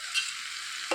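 Fried makhana (fox nuts) being stirred into a cucumber curry in a pan, a steady close sizzle with a soft scraping stir and a louder clatter right at the end.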